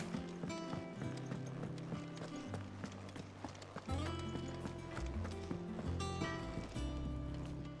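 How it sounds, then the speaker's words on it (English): Horse hooves clip-clop in the Final Fantasy 16 video game, a steady trotting rhythm that runs throughout under layered game music and ambience, with no voices present. "Clip, clip, clip. Clip, clop, clip."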